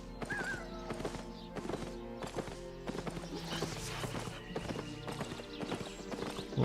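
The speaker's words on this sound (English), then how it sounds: "Oh, the speed. It's a fast donkey." A donkey mount in Albion Online trots along, hooves clopping in a quick, steady rhythm, loud and near, with a brief whinny-like cry early on and no speech.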